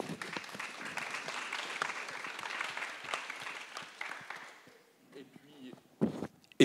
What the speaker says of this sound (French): On peut, je pense, les applaudir également.